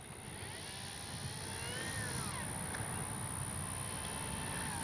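An RC F4U Corsair model warbird plane runs steadily with a continuous engine and propeller drone, holding an even, fairly loud level throughout with no talk.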